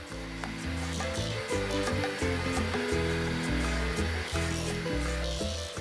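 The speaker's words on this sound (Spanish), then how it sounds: "Seguimos batiendo y nos daremos cuenta que la crema de leche se va a poner siempre más espesa, más dura, y va a subir" An electric mixer whips cream with salt to make butter at home, a loud, continuous motor whir with a rough, pulsing grind as the beaters churn, close and steady throughout, no voices.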